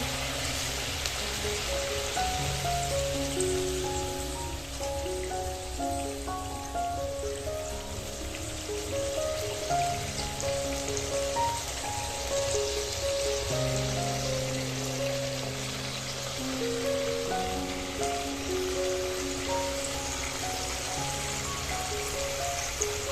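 Fried bhola fish goes into a spicy curry that simmers with a steady, close hiss and bubbling throughout, with music playing in the background.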